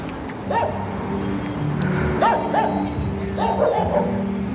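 Dogs in a Ukrainian city bark in short groups of two or three yaps. They sound fairly distant over a steady background hum.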